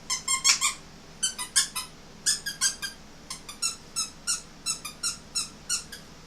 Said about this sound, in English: These skinny, stuffing free toys with a zillion squeakers.